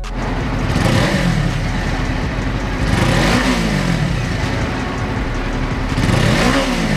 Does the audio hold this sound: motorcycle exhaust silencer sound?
yes